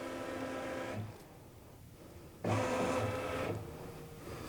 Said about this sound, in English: it's going to actually scan using the camera to find that sticker